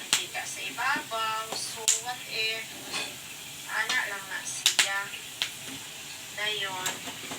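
Peanuts frying in oil in a pan, heard as a soft sizzle under a speaking voice, with a few sharp clicks and scrapes from stirring.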